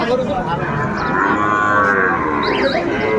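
Sahiwal bull calf, about four to five months old, mooing at a cattle market in Sylhet; one long drawn-out bellow fills the clip, close and loud over a busy market crowd.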